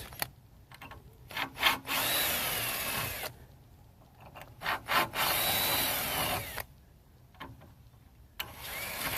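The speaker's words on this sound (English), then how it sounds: "So let's quick ream these here with the 9/64." A power drill with a 9/64 bit reams out screw holes on a camper gadget, whining and grinding in several short bursts separated by brief pauses, close and loud.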